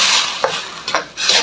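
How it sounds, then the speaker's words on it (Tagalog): Escabeche fish sauce with a splash of soy sauce being stirred in a frying pan, soft scraping strokes repeating a few times over a steady low sizzle. "Haluin."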